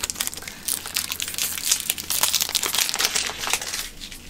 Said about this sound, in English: Oh, just didn't even open the pack, just managed to tear.